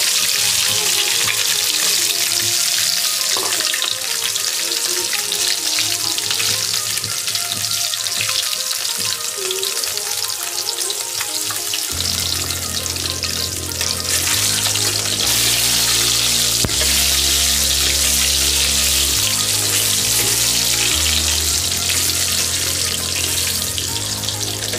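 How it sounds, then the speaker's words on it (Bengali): Eggs frying in oil in a wok give a continuous bright sizzle, with a melodic music track running under it and growing fuller halfway through. "ডিমগুলো ভেজে নিব এভাবে।"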